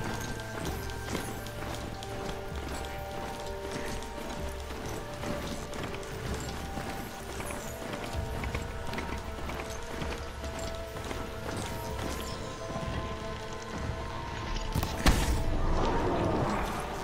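Galloping hoofbeats of a Charger, a robotic horse-like mount in the video game Horizon Zero Dawn, pound in a steady rapid rhythm over continuous game ambience and a low hum, with a brief louder burst near the end.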